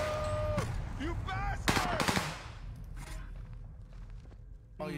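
Video game gunfire during a live-streamed Fortnite-style tournament match, with a few sharp shot bursts and rapid cracks clustered midway, under ongoing game sounds and background noise.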